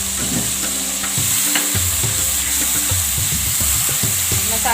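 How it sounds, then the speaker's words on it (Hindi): A masala of turmeric, red chilli and coriander powder being fried in oil for okra, with a loud, close, continuous sizzle and dense bubbling crackle and scraping of a stirring spoon. "ये मसाले को मैं भूनती हूँ, तेल ऊपर आ जाता है"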